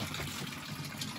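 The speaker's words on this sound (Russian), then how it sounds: "О, это, посмотрите, горная вода." Mountain spring water in an Uzbek highland village runs in a steady, close gurgling flow, dense and continuous for the whole short stretch, with no voices over it.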